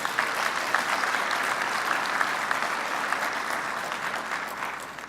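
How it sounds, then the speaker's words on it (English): Conference audience giving the event staff a round of applause, a sustained, even wash of many hands clapping in a large room, heard alone and slowly easing off toward the end. "can we give a round of applause for all of them?"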